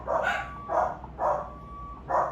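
Dogs at home bark at the mailman turning around in the driveway, four sharp barks spaced evenly, somewhat muffled and from a short distance.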